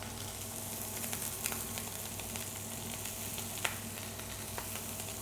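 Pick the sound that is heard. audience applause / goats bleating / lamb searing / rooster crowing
lamb searing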